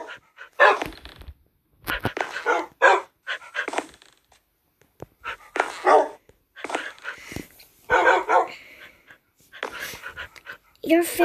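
Puppies yip, bark and whimper in short bursts, with a person talking over them at close range.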